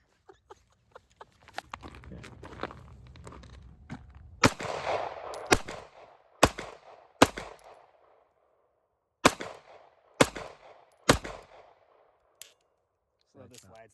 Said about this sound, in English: So here's shooting at distance.